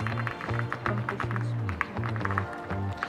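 Clacky taps from people trying mechanical keyboards in a Korean keyboard shop, irregular bursts of keystrokes over a busy background with sustained hum and tonal sounds throughout.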